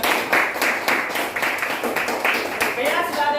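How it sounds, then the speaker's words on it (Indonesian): A crowd claps steadily, a dense patter of many hands continuing throughout at a fairly loud, even level. "Oke, sekali lagi tepuk tangan untuk kelompok."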